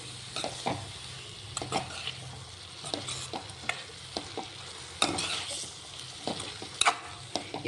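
Cabbage palya is stirred in a frying pan over a low sizzle, with repeated scraping and clacking strokes of the spatula at an uneven rhythm. The sounds are close, and no one speaks.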